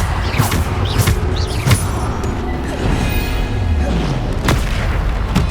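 Bombarda explosion spells in Hogwarts Legacy, heard as loud, close booms and impacts over a dense, continuous roar of combat effects, with several sharp bursts spread through the clip.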